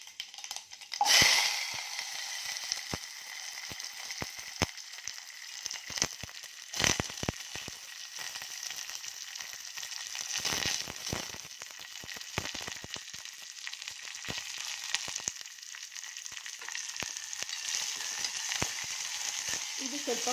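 Onion, garlic, green chilli and curry leaves sizzle in hot oil in a pot on a stove, a steady frying hiss with crackles, utensil clinks and stirring scrapes throughout, without any talking.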